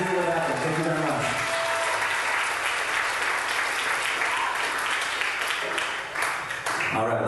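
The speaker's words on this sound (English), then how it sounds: "A big round of applause for everyone that's made all these records happen." An audience applauds at a nerd-rock concert watch party, a sustained wash of clapping that stays loud and even for several seconds before thinning out, with a voice briefly audible at the edges.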